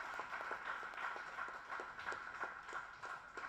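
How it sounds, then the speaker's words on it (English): Sparse applause from an audience at a Social Studies Foundation session, rather faint and distant, with separate claps sounding in a loose, uneven rhythm throughout. "May I request you all to give a huge round of applause for them."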